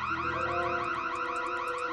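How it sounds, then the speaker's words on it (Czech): Alarm blaring continuously, a loud warbling electronic tone that sweeps rapidly up and down in a steady repeating cycle, with no voices. "Spustil se alarm."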